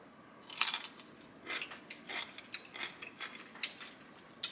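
Several crisp, crunchy bites and chews on a Claussen pickle, heard close and quiet, each crunch sharp and separate, with no talking.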